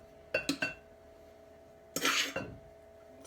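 Flour mixture being scooped and measured into a bowl with measuring cups, giving two brief clusters of clinks and scraping knocks, the first a quick triple tap and the second a longer rustling pour.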